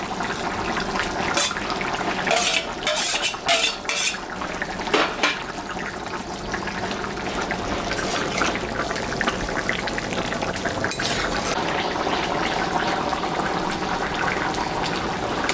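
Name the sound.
shrimp added to simmering jackfruit and meat curry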